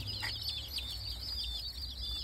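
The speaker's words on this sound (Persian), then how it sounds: "این 17 تا جوجه بود" Young chicks in a countryside village yard give a few soft clucks and chirps over a steady low hum, quiet and close.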